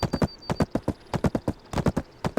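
Horse hooves clip-clop in Black Desert Online, a steady, brisk run of sharp hoofbeats in quick pairs and triplets, loud and close with no talking.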